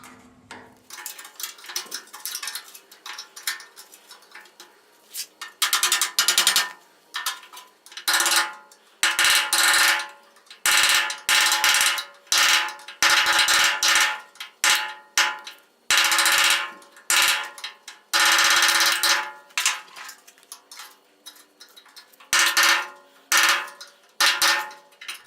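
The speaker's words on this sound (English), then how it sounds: "it's going to be a matter of working the skin off the panel. And I'll do that with a series of small screwdrivers." Small screwdrivers pry the sheet-metal skin off a 1930 Ford Model A cowl patch panel, giving sharp metallic clinks, taps and scrapes in irregular bursts separated by short quiet gaps.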